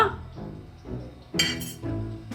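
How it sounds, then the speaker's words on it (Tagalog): Drinking glass clinking while being poured into, a few sharp clinks and taps, close by amid faint background sound. "Baso. So, ang gagawin niya, Mik, ano, bubuhos niya dito?"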